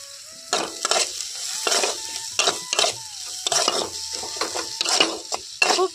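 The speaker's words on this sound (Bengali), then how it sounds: "খুব ভালোভাবে তেলের মধ্যে ভেজে নেব" Chopped tomatoes, onion and garlic powder frying in oil while being stirred with a spatula, a light sizzle under repeated scraping strokes against the pan, close and fairly loud in quick irregular bursts.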